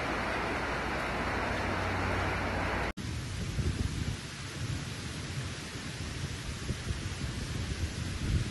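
Heavy rain pours steadily through a severe thunderstorm during flash flooding in Zaragoza, Spain, a loud dense wash with a sharp break about three seconds in, then continuing rainfall with rumbling low noise and no voices.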